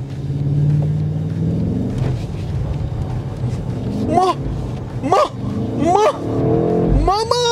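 BMW M8 Competition with 625 hp accelerating from inside the cabin, a steady loud engine drone rising through repeated revving surges and gear changes, with people talking over it.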